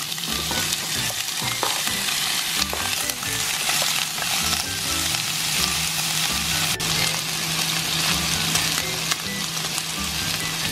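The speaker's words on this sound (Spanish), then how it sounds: "voy a comenzar por poner a dorar unas costillitas ahumadas en un poquito de aceite, muy poquito" Precooked smoked pork ribs browning in a small amount of oil, a steady close sizzle and crackle that fills the whole stretch with occasional stirring scrapes.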